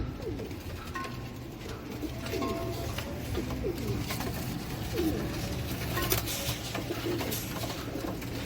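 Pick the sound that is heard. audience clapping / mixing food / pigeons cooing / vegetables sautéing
pigeons cooing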